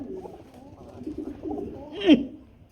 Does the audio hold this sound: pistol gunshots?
no